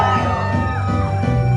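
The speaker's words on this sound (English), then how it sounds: "Can I get a loud scream on the count of 1, 2," Wedding reception guests scream and whoop together loudly on a count, a sustained crowd roar filling the whole stretch.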